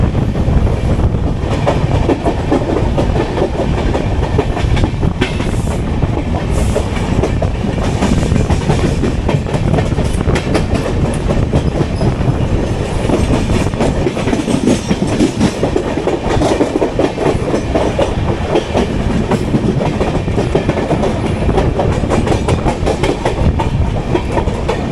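Kochuveli Superfast Express rolls toward Thane station, a steady loud rumble of wheels with rhythmic clickety-clack over rail joints and occasional squeals, heard from on board throughout with no talk.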